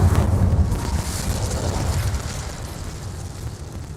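An Incendio fire spell in Hogwarts Legacy bursts with a loud whooshing blast at the start, then fades into a rushing, crackling roar that slowly dies away.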